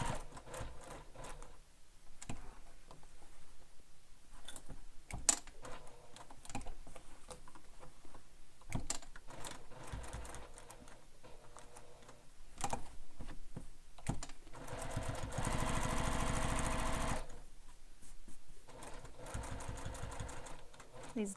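A sewing machine runs in a long steady whirring stretch as it top stitches a handheld bag, joined by short stops, clicks and a louder sustained run near the end. Soft talk surfaces here and there.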